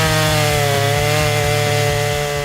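An 82-volt battery chainsaw cuts through wood with a loud, steady motor whine and a fast rhythmic pulse of the chain biting, close up and without talk.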